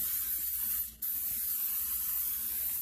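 Cooking oil sprayed into a pan heating over medium-low heat for Filipino-style hot cakes gives a steady, close, even hiss that dips briefly and then resumes, with no talking.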